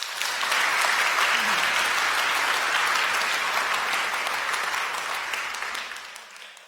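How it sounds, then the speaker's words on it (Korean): A church congregation gives a warm round of welcoming applause for a newly registered member during Sunday worship, dense steady clapping filling the hall before tapering off near the end. "여러분들 환영의 박수 부탁드립니다."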